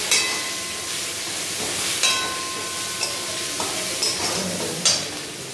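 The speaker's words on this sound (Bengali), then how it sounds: "এটা দিয়েও একটু ভাজা ভাজা করে নেব" Oil sizzling steadily in a pan as ginger and garlic fry, with occasional scraping and clinking from a utensil stirring the food.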